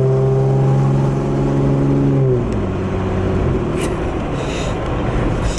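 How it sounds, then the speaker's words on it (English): A carbureted engine in a 1997 Toyota Land Cruiser FJ80 with a small downpipe exhaust leak holds a steady, loud rev, then drops to a lower idle-like drone, heard close with no talk. "There is a small exhaust leak too on the downpipe"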